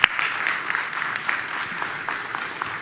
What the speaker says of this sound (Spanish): un aplauso para la compañera Liliana